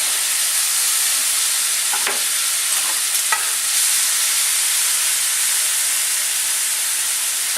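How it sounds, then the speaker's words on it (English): Diced tomatoes and green onions sizzle steadily in a hot pan, a continuous bright hiss with a few soft stirring taps near the start. "after 2 to 3 minutes of cooking the green onions, put in your diced tomatoes"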